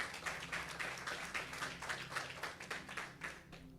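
A church congregation applauds in steady, rhythmic unison, the evenly spaced claps moderately close and continuing without talk.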